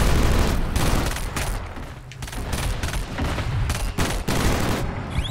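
Gunfire in the video game Killzone Shadow Fall during an online multiplayer match on a canyon map, loud dense volleys of rapid shots and bursts that continue steadily with brief dips throughout.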